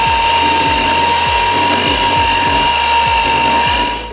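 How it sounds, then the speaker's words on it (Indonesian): Electric mixer beating margarine and powdered sugar for cookie dough, a loud, steady motor whine close by with a regular rhythmic thumping of the beaters, easing off at the end. "Jadi tinggal dicampur saja butterland margarin dengan Etna gula halus sampai tercampur rata."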